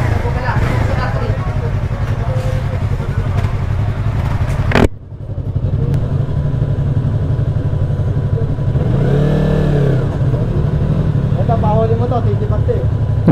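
Yamaha R15M motorcycle engine on a test ride at the Carmona race track, a loud continuous drone that rises and falls as it revs, with people talking over it.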